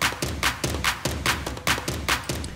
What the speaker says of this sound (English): And then we have a clap.